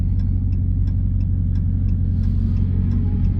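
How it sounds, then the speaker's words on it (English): A supercharged V8 in a Dodge Hellcat Widebody drives along back roads, producing a steady, deep engine drone with a low rumble and faint rhythmic ticking, continuous throughout and heard from inside the car. "so I can make you hear some more of this glorious supercharged V8 sound"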